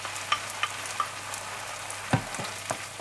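Onion, garlic and fried tomato sauce frying in a pan give a soft, low sizzle, with a few light clicks and scrapes of stirring scattered over it.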